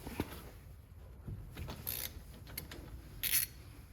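Brake caliper bolts on a 2002 Ford Mustang being loosened and removed, faint metallic clicks, a ratcheting rattle and brief tool clatter, close but quiet and intermittent.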